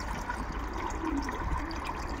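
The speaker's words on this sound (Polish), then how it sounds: "Także tutaj nalałem wody do pojniczka, bo u mnie tak gołąbki tutaj piją" Water being poured into a pigeon drinker, a soft continuous splashing and trickling that runs evenly and faintly for a couple of seconds.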